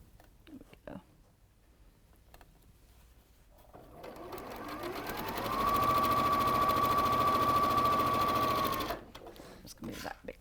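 A sewing machine stitches quilt strips with a quarter-inch seam, starting softly and then running in a steady, whirring buzz for several seconds before stopping. Faint voices and handling noises come before and after.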